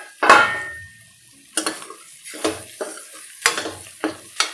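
Sliced onions fry in a pan for an egg and ridge gourd (beerakaya) curry, with a soft sizzle under a series of sharp, close scrapes and clinks as a utensil stirs them at irregular intervals.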